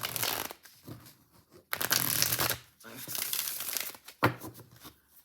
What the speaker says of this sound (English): Beautiful shuffle. It does riffle very well.